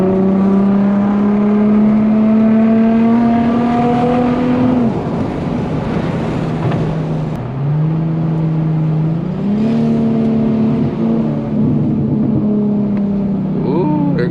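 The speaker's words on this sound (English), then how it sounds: "Some pops. There goes some pops." An Infiniti G35 engine revs and accelerates through gear changes in manual mode, rising and falling whine with a few crackling exhaust pops, loud and close.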